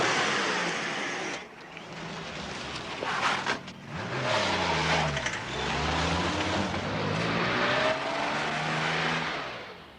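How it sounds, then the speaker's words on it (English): A car's engine revs and shifts as it pulls off and accelerates, pitch rising and falling through gear changes before it fades into the distance. "I want you to drive away from here."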